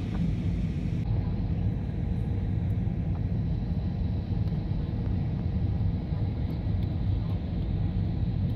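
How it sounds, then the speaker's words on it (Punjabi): Inside an airliner descending toward landing at Melbourne, a steady, moderate cabin rumble of the engines and airflow continues throughout. "ਜਹਾਜ਼ ਲੈਂਡਿੰਗ ਦੇ ਬਿਲਕੁਲ ਨੇੜੇ ਆ ਗਏ ਹੋਏ ਮੈਲਬਰਨ"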